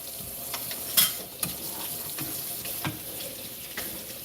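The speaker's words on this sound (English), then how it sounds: "So why are you running the water constantly like that?" A kitchen tap runs steadily at low level, with a continuous hiss of water and occasional clinks and knocks of dishes or utensils in a sink, and no talk.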